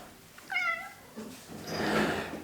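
A house cat meows close by indoors, two short meows about a second apart, fairly quiet, with no talking.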